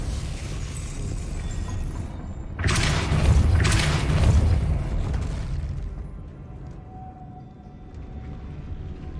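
A deep booming blast of the Depulso spell in Hogwarts Legacy, a sudden loud burst with rumbling tail that fades over a few seconds against game ambience.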